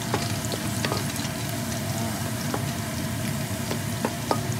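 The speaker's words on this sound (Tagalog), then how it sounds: "Halo-halo lang para pantay ang pagkaluto ng bawang." Garlic sizzles steadily in hot oil in a pan, with clear scraping knocks of a utensil stirring it every second or so; the sizzle is loud and close, with no voices over it.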